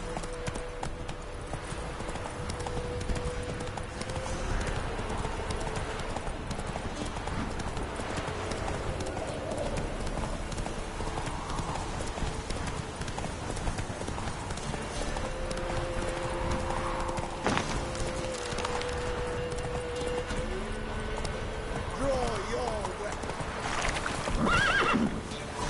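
A horse gallops in a PS4 video game with rapid, continuous clip-clop hoofbeats, broken by several drawn-out neighs and whinnies over a busy, steady game background.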